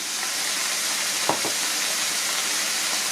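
Beef mince with whole cumin seeds sizzles steadily in a pan for a Kenyan samosa filling, a continuous close hiss with one brief clatter near the middle.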